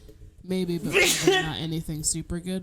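One sharp sneeze bursts out in the middle of casual talk between players of the game Rage 2. Voices are heard before and after it.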